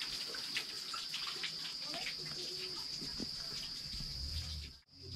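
Running water from a tap rinses a container in a home kitchen while mango jam is being made, a steady soft splashing under a constant high hiss, fairly quiet and close, with a brief dropout near the end.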